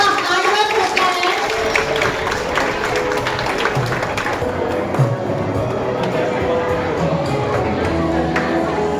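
An audience at a school scholarship event applauds students, a steady wash of many hands clapping with crowd murmur, continuous and fairly loud, with talking mixed in.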